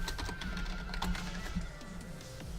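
Rapid clicks of a computer keyboard as a file name is typed, close and fairly quiet, with irregular bursts of keystrokes and a few pauses and no talking.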